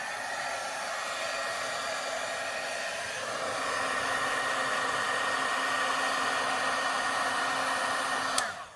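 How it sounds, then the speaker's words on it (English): A crafting heat tool blows steadily for about eight seconds, a constant airy whir with a mechanical hum that swells slightly midway, then cuts off with a brief click at the end. "Heat tool again, turning that on."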